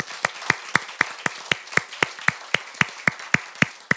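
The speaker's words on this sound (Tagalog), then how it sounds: "Can we give a big clap offering of praise to our God?" A church congregation claps in unison in praise, sharp, evenly spaced claps at a brisk steady beat of about four per second, crisp and close with no voices over them.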